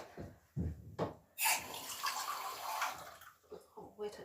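Water runs briefly to wet down a stitched cross-stitch project: a soft, close gush lasting a second or so between quieter handling sounds.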